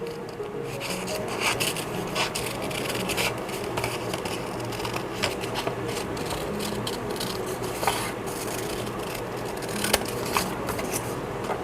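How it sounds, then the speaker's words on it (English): Large scissors cut through paper at a desk during art journaling, a steady close rasping and rubbing with small snips scattered through, no talking. "I'm surprised I picked my big scissors."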